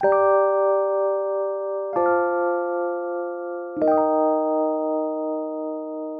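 Three sustained synth chords in a fairly high register, each struck about two seconds apart and ringing steadily until the next one lands.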